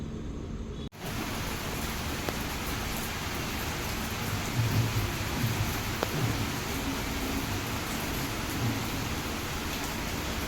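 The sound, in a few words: heavy rain falling suddenly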